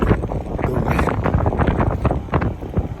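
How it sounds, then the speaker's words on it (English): Strong, cold mountain wind buffets the microphone in gusty, roaring bursts, a constant rumbling bluster outdoors. "It's getting really windy and cold."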